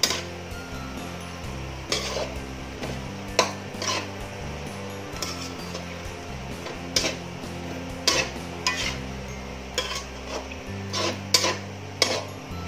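Lechon manok paksiw being mixed in a pot, with a utensil scraping and clinking against the metal at irregular intervals over soft background music.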